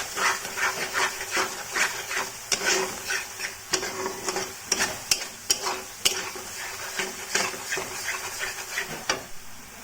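Masala for an onion egg curry being stirred and fried in a pan until the water dries off: a soft continuous sizzle broken by repeated scraping strokes of a spoon against the pan, close and fairly loud.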